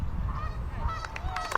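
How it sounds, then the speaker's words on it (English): Geese honk a few times in the distance on a disc golf course during a women's pro tournament round, short calls rising over steady outdoor ambience. "The geese approve."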